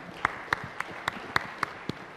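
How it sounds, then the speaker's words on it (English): Scattered audience clapping at a Tech·Ed North America 2011 tech conference session, about eight sharp separate claps spaced roughly a quarter second apart, light and sparse rather than full applause. "A little bit of clapping."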